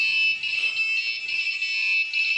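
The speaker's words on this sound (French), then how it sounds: "on voit bien que l'alarme avec buzzer s'est mise en route" A motion-detection intrusion alarm built on Xbee and Arduino modules sounds its buzzer, a loud, continuous high-pitched electronic tone that pulses slightly and stays close and steady throughout.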